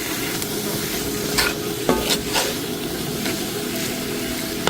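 Vegetables for fajita bowls frying in a pan with a loud, steady sizzle, broken by occasional scrapes and clinks of stirring, close up with no talking.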